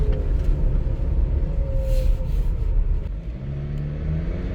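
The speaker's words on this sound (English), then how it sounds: "There's a little whine coming from the engine." A Ford Explorer engine rumbles loudly from close range with a thin whine rising above it. The whine climbs in pitch during the rev before the steady engine drone settles slightly.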